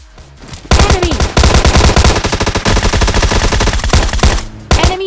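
Rapid automatic gunfire from an MP45 in PUBG Mobile Lite, loud close bursts of rattling shots in a steady rhythm, broken by short pauses.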